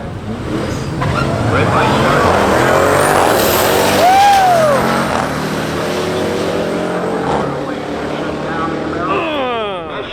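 Race cars, including a Camaro and a Trackhawk, roar down a drag strip, loud engines revving and whining under crowd noise and voices, with a rising and falling pitch as they accelerate.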